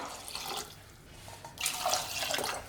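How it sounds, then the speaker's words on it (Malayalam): Water is poured into a pot of onion, drumstick and potato pieces for Kerala sambar, a faint splashing trickle that swells into a clearer, louder pour midway through. "ഇനി നമുക്ക് ഇതിലേക്ക് ആവശ്യത്തിന് വെള്ളം ഒഴിച്ച് കൊടുക്കാം"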